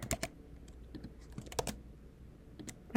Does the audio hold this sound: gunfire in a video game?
no